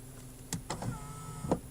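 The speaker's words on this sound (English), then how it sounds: "So one's going in, one's going out, so both motors are working fine." Electric folding side mirror motors on a VW Golf GTI DSG, heard close up as short clicks and a steady motor whir with brief clunks where the mirrors stop.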